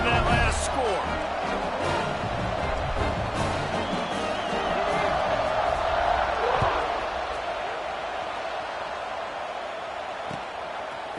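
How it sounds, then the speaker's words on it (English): A stadium crowd in College Football 26, Virginia Tech vs. Florida State, buzzes as a steady loud roar with scattered cheers and thumps, filling the space beneath the game's commentary. "this crowd is buzzing after that last score"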